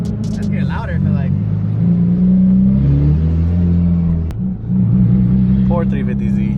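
A Nissan 350Z with a loud muffler setup and a worn clutch, a deep rumbling engine idling and revving steadily nearby with a rattly buzzing edge, as people talk over it.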